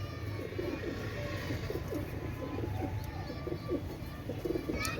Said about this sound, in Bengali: দেখছেন, অনেক সুন্দর কবুতর